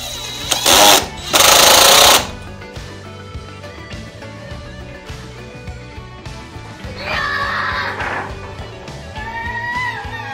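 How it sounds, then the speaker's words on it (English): Loud, harsh mechanical bursts from drilling a curved wooden piece meant to hug a PVC pipe, with two strong blasts early and a longer, rougher run later, over a steady low machine hum. "we'd use a drill press to make a curved piece so it can hug the PVC pipe really tightly"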